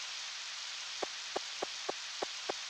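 Steady hiss of rain falling in the video game Harvest Moon 64, faint and continuous, with about six soft evenly spaced taps over the downpour.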